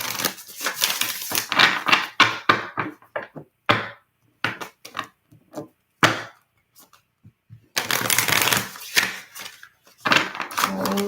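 Tarot or oracle cards are shuffled in long riffling bursts with crisp flicks and taps in between, close up, alternating with short quiet pauses.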